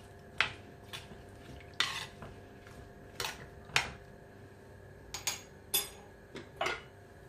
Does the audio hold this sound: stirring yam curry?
yes